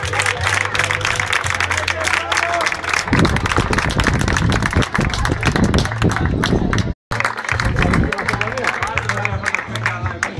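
An audience at a medal ceremony for an endurance race championship applauds, with dense, loud, sustained clapping mixed with crowd noise. A brief drop to silence comes near the end before the clapping resumes.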